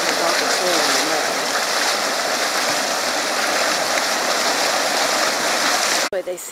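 Hot volcanic mud pot in Yellowstone, a continuous loud bubbling and gurgling wash of thick water, steady throughout and cutting off abruptly near the end.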